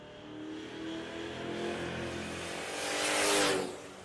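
Drag racing cars at Tulsa Raceway, including a Fox Mustang, roar down the strip with a sustained engine drone that swells louder toward the end as a car passes close.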